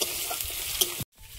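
Chopped onion and slit green chillies sizzle and fry in a pan while being stirred, a steady close crackle with a scrape of the spoon before a brief silence.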